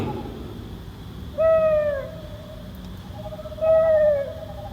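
An owl gives two separate hoots a couple of seconds apart over a quiet outdoor background.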